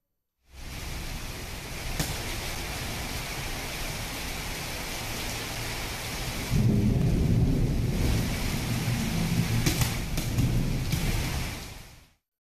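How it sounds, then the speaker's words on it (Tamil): Heavy rain pours steadily across villages around Arani in Tamil Nadu, a dense broadband hiss that swells louder midway, with thunder rumbling low and sharp crackles breaking through. "இடி மின்னலுடன் கனமழை பெய்தது"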